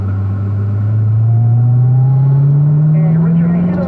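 Close, steady engine drone of a race car on the track at Pahrump, Nevada, its pitch climbing smoothly as it accelerates, heard from inside with a constant loud rumble.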